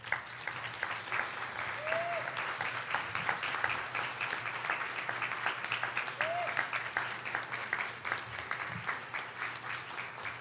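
Sustained applause from a large audience, dense steady clapping that continues throughout without pause.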